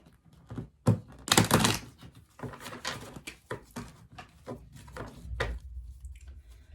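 Cards riffle and thump as a deck is shuffled close up, with a loud flurry early followed by softer, irregular patters and taps.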